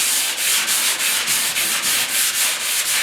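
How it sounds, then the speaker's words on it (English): Sandpaper worked by hand across the inside of the box on a 1972 Ford 4x4 truck, making steady rhythmic rubbing strokes about every quarter second, close, even and fairly loud with no voices. "if you use a little lighter stroke, your sandpaper isn't plugging up too much"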